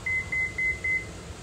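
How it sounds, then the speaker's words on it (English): A 2018 Toyota Highlander Limited Platinum power liftgate gives four short, evenly spaced high beeps as its opening height is set, clear over a quiet background hum. "You want to press and hold and wait for the beep."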